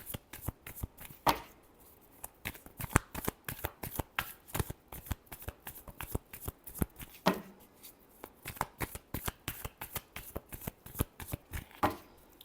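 Playing cards being shuffled by hand in quick, crisp riffles and taps, with a few louder slaps, repeating steadily and close up.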